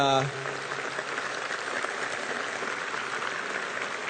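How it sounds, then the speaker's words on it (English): Applause from a debate audience in a hall, steady and dense many-handed clapping that rises just after a voice trails off at the start and continues evenly at moderate loudness, slightly distant. "I want to give Richard and Dan another round of applause."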